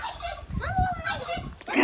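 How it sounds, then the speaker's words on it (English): Turkeys in a Mayan family yard in Merida give a short, warbling gobble up close, with a second brief call near the end amid faint background sounds. "I didn't know they actually made that gobble gobble sound."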